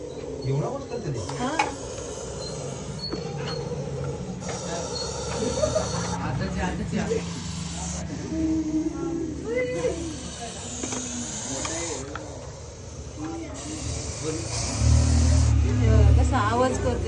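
A Russell's viper hisses from inside a pipe in a steady, breathy warning that runs throughout, close and moderately loud, with people talking over it.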